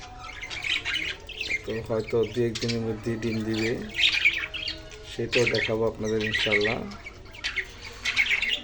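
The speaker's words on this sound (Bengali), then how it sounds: "সবগুলো পাখির এই যে কিচির মিচির আওয়াজটা" Pet budgerigars, a group including a pair of chicks, chirp and squawk in bursts close by, with repeated harsh calls. A person speaks over the birds throughout.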